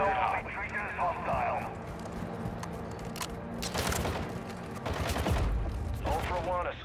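Gunfire bursts in the Call of Duty DMZ video game, sharp shots clustered mid-clip around louder impacts, mixed with game radio chatter and voices throughout.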